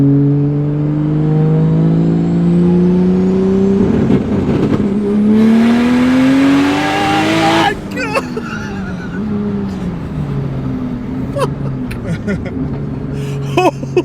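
A 1,000 horsepower car with anti-lag accelerates hard from inside the cabin, its engine note climbing steadily through gears before cutting off into sharp pops and crackles, with voices talking over it.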